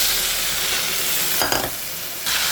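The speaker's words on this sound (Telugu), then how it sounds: "చూస్తారు కదండి, బాగా ఫ్రై చేసుకోవడమే" Cabbage dal frying in a pan, a loud, dense, continuous sizzle heard close up, broken once by a brief stirring interruption before the steady frying hiss resumes.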